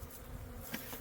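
Honeybees hum at a backyard apiary hive in a faint, steady drone that carries on throughout without a break.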